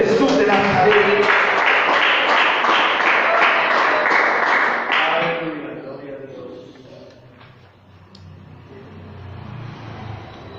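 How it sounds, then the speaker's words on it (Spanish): Church congregation clapping during a Spanish-language sermon, a loud rhythmic burst of applause for about five seconds that fades into quieter room noise and murmuring. "Aplauda el nombre de Jesús de Nazaret"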